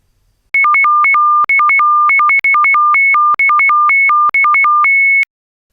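Loud electronic tones alternate sharply between a higher and a lower pitch in a rapid on-off pattern encoding data bits, played back from a phone in five bursts separated by tiny gaps, then stop.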